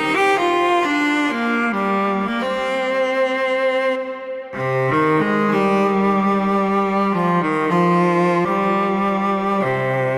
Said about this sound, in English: This is a cello tone.